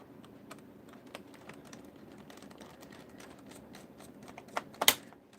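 Keys on a Lenovo ThinkPad laptop keyboard are pressed during a repair, a steady run of light, close clicks with a few louder snaps near the end and no talking.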